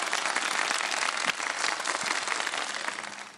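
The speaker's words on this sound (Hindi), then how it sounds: "अब जल्दी से बजा दें मेरे लिए तालियां" Dense studio audience applause for the host of a kids' iftar segment, a loud, even sheet of clapping that fades slightly toward the end.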